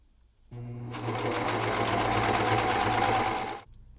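A sewing machine stitching a seam on a gaiter scarf runs at a fast, steady whirring hum for about three seconds, starting and stopping abruptly, close and alone.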